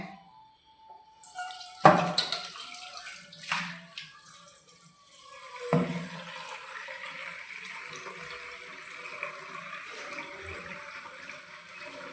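Water runs steadily from a tap, with a few clanks and knocks at the start, then a continuous gentle flow.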